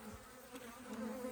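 Honey bees hum in a steady, faint, continuous drone during a March hive inspection, with no voices over the buzzing.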